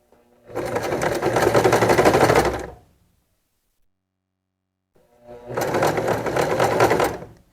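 A sewing machine stitches a draped skirt in two loud, close bursts of rapid mechanical chatter, each lasting about two seconds, separated by a silent pause, with no talking.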